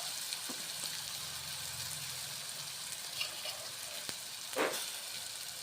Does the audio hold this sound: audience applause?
no